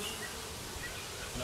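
Honey bees drone in a dense, continuous buzz around an open hive with foundationless frames and capped brood, steady and close throughout.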